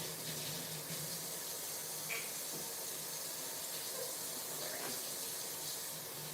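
A tap runs steadily into a sink for hand washing in a home kitchen during baking, a continuous even rush of water with faint clinks.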